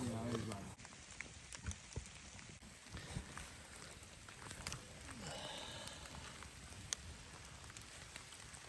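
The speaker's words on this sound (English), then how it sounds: "Well, the rain is here." Steady rain patters down outdoors around someone lying on wet ground in a wool blanket with no camp set up, a constant soft hiss of drops with occasional louder taps and drips close by.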